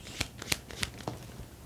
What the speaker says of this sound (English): Six of Wands flipped over to reverse